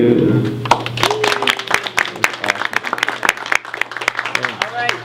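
An audience claps after a birthday song at a club master class, scattered sharp claps of varying loudness with a few voices talking over them.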